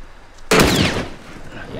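A single loud, close gunshot bursts out in The Last of Us Remastered, with a sharp onset and a roaring tail that decays under steady game ambience.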